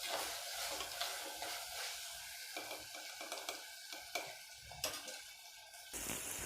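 Onion and ginger garlic paste sauté in oil for chicken curry, with a soft, low sizzle broken by repeated scraping and clinking of a spoon stirring in the pan, quiet and close.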